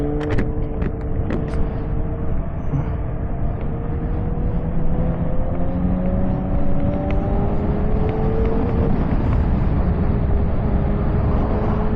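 A LiveWire Del Mar electric motorcycle is ridden at speed: a steady, loud wind rumble runs throughout, threaded with a thin, rising and falling electric motor whine and a few faint ticks.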